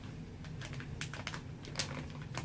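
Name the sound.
knife cutting a piece of date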